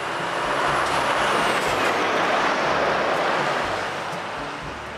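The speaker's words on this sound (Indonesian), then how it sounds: "Yang ini ada mobil towing." A toy tow truck gives off a loud, steady roar of broadband rumble and hiss with a high whine gliding downward, running about five seconds before easing slightly near the end.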